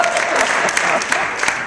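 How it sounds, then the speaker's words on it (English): Applause at a Team Beachbody summit with Tony Horton, a dense steady clapping from a large audience that fills the whole moment at even loudness, with a few sharper claps standing out. "There should be applause."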